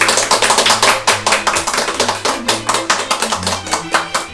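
Audience clapping for Jeanne, the winner of a cast-iron frying pan contest, with dense, steady claps throughout and a low hum of music or voices underneath.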